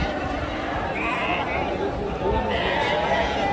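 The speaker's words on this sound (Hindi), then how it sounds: "आप देख सकते हो यहाँ पे बकरा है बहुत प्यारा" Goats bleat in long wavering calls at the crowded Deonar goat market in Mumbai, partly masked by continuous crowd chatter and someone talking nearby.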